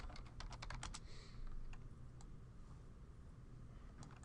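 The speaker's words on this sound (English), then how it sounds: "I can type." Rapid keystrokes on a computer keyboard during office chair 3D modeling work, a quick burst of clicks up front followed by a few sparse, quiet taps, fairly faint over a low room hum.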